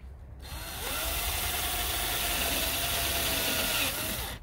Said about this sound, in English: I think I need to drill a couple of new holes